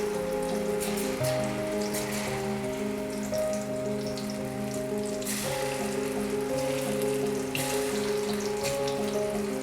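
Chickpeas for chana koliwada sizzle in hot oil on a full flame, making a steady, dense crackle that lasts throughout, with a faint tonal hum running beneath it.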